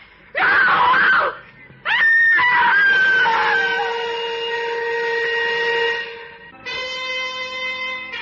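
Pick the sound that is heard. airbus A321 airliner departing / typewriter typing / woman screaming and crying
woman screaming and crying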